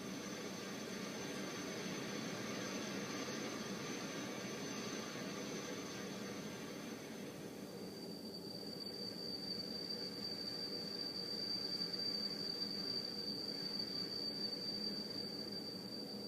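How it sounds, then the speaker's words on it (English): Simulated tinnitus sounds: a faint, continuous high-pitched whine over a low rumbling hiss, the whine shifting to a sharper, steadier ringing tone about halfway through, no voices. "I'm just going to show you a little bit of what tinnitus can sound like."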